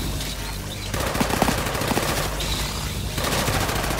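Gunfire in the video game Off the Grid rattles out as loud, sustained automatic fire, with rapid shots that continue almost unbroken through the few seconds.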